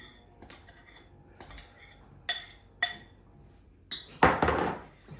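A utensil scrapes whole wheat banana muffin batter from a mixing bowl, giving a series of sharp clinks and scrapes against the bowl, with the loudest, longest scrape near the end.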